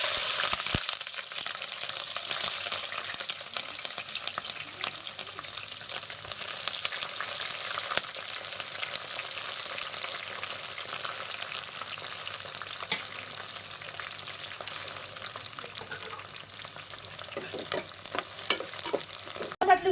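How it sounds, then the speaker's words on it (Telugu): Green chillies fry in very hot oil, giving a steady, close crackling sizzle with occasional stirring scrapes that runs for the whole stretch at an even level. "పచ్చిమిరపకాయ ఇవన్నీ తొందరగా అవుతుంది ఫ్రై."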